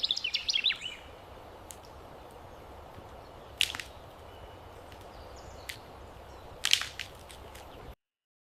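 Birds chirp in a forest with a quick burst of high tweets at the start, then sparse sharp single calls over steady background hiss, ending in silence.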